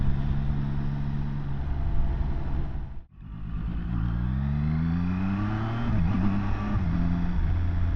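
Zontes 703RR sports motorcycle riding on a dual carriageway, a loud steady engine drone with rushing wind that briefly drops for a gear change, then climbs again in pitch as the bike accelerates, close and continuous.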